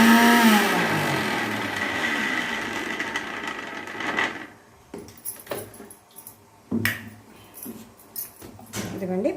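A mixer grinder whirs loudly while blending red chilli and garlic powder with a drop of water, then cuts off after a few seconds, leaving scattered clicks and clinks as the jar is handled.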